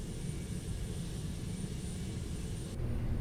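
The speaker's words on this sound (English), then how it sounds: "So let's start first engine number 1." Boeing 767-381(ER) engine number 1 starting up in the Prepar3D flight simulator, a steady low mechanical roar and hiss that holds evenly throughout and swells slightly near the end, with no talking.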